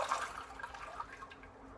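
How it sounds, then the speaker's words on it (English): Soaking water from sprouting azuki beans drains away in a quiet splashing trickle, a brief soft run of liquid that tapers off within two seconds. "Let the water drain."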